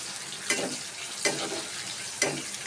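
Food frying in hot oil in a pan, stirred with a utensil, making a steady broad sizzle with three distinct scraping stirs spaced about a second apart, close and without talk.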